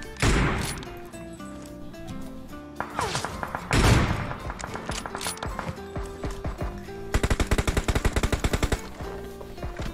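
Gunfire in PUBG Mobile, repeated rapid automatic bursts and single shots mixed with mechanical clatter and game music, with a steady fast volley near the end.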